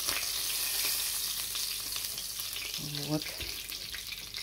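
Steady sizzling and crackling of food frying in a pan, close up, with a brief clink and a short spoken word.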